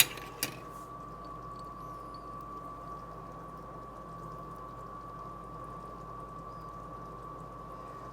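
Boiling candy syrup bubbles steadily in a pot on the stove, a soft continuous simmering hiss with faint pops, heard alone after a brief knock at the start.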